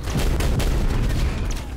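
Dense, continuous explosions and booming blasts from the 4-player video game Rounds, loud and packed together for nearly two seconds with no talk over them.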